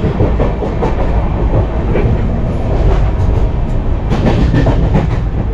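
Loud, steady rumble of a train moving along the tracks, with rhythmic clatter and rattling from the carriage, heard from inside a first-class AC cabin.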